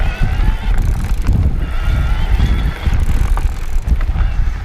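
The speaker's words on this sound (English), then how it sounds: "so that you can hear the motor and get an idea for how it responds" A Bulls Six50 EVO AM 3 electric mountain bike climbs a trail, its motor whirring steadily under loud rolling tire and wind noise for several seconds.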